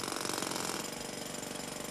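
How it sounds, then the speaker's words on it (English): Jackhammers break through hard rock underground with a loud, rapid, steady pounding rattle that continues alone for the whole stretch. "The friends handed out jackhammers."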